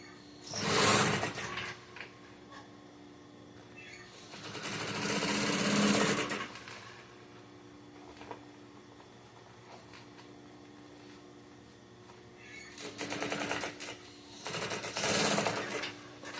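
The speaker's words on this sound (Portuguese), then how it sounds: "passa a costura aqui juntando" A sewing machine stitches two fabrics together for a toiletry bag, running in several whirring, buzzing bursts of a second or two each, separated by quiet pauses.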